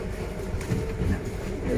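Inside an air-conditioned narrow-gauge passenger train running through hills in Vietnam, a continuous loud rumble of the carriage with faint rhythmic wheel clatter, heard from within the car with no talking.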